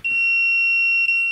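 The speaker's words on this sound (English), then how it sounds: "it will actually alarm to say there is a voltage present" A Hioki IR4058-20 insulation tester sounds its voltage-present alarm, a single steady high electronic beep lasting over a second, close and clean with a tiny dip near the end.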